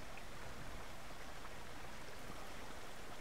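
A river stream flows in the Die 2 Subsistence survival game, a steady, faint rushing hiss of water with no voices.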